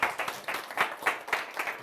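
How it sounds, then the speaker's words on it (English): A live audience at a show in Berlin claps for a script writer, the applause coming in irregular bursts of moderate loudness with no one talking over it. "So give him a round of applause for making such great scripts."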